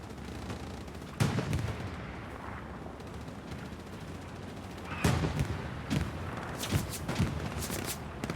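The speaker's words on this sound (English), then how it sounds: "Got nades coming in." Grenades exploding in the World War II shooter Hell Let Loose, several muffled booms and gunfire cracks spread across a noisy battlefield, with a burst near the start and a cluster of blasts toward the end.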